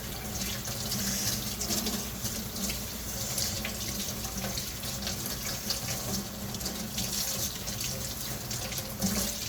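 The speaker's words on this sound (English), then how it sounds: "I'm gonna take these, rinse them off" Tap water runs steadily into a sink while 925 silver and stainless steel jewelry is rinsed under it, giving a continuous, close, fairly loud splashing rush with no talking.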